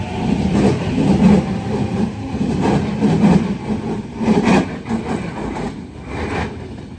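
A Sydney Trains Waratah electric train rumbles and whines as it pulls away from Central Station, a steady mechanical drone with rhythmic clunks of wheels over rail joints, fairly close.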